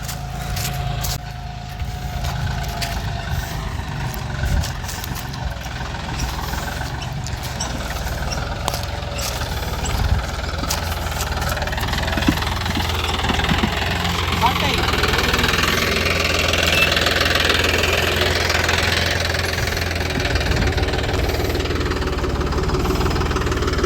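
A tractor engine rumbles steadily nearby in a sugarcane field, low and constant, towing a rear implement loaded with sacks, while a person talks over it throughout.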